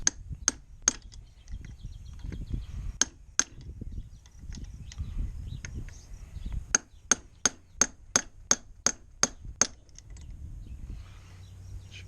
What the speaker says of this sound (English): So I'm just going to tap on that. This little chisel.